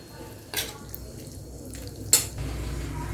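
A spoon scrapes and clinks around a pan as brinjal chutney is stirred with fresh coriander, two sharp metallic knocks standing out over a low, soft background of stirring.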